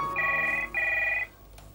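A telephone rings twice in short, steady warbling bursts, each about half a second long, clear and close with a brief gap between them, on a line called from a television drama set in India.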